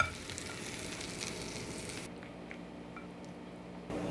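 Sweet potatoes being stirred in pooled butter and honey, giving a soft, close sizzle with wet squishing as the spoon moves, then a quieter stretch with a few faint clicks.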